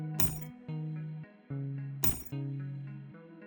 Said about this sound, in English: here's the keys being dropped for that ringing shimmer effect that we were trying to make